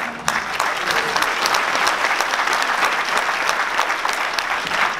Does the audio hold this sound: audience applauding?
yes